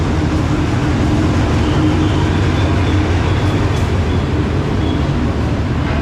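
A train travelling from Malaysia to Thailand rumbles steadily with a dense, low roar and rattling, loud and constant throughout.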